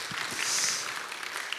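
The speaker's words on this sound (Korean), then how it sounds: "우리 귀한 강의해 주신 목사님께 다시 한번 감사의 박수 드리겠습니다" Church audience applauding a pastor after a lecture session, a steady broadband wash of clapping that swells in the middle and stays moderately loud throughout with no talk over it.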